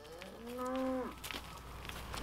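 A single cow on a farm gives one long, drawn-out moo at moderate distance, with a quieter outdoor background after it fades.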